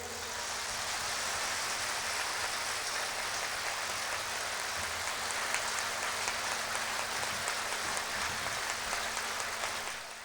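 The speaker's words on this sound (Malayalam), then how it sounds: "എന്നാൽ കൈ ഉയർത്തി ശക്തിയോടെ കൈയടിച്ചേ." A church congregation claps hands during a Christian worship service, a dense, steady wash of applause that keeps going without a break and without voices.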